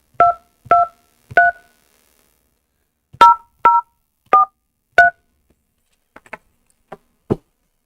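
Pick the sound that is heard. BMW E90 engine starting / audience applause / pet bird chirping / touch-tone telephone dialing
touch-tone telephone dialing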